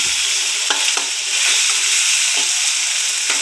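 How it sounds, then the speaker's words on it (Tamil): Tomatoes sautéing in a hot pan, giving a loud, steady sizzle with a few sharp stirring scrapes, close by and without any talking. "எல்லாம் சேர்ந்து நல்லா வதக்கிக்கிறோம் தக்காளி நல்லா வதங்கி வரணும்"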